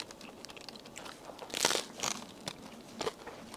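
Crunchy bite into a mentaiko (pollock roe) baguette, crisp crust crackling in a few loud bursts close to the mic over a soft background, with no talking.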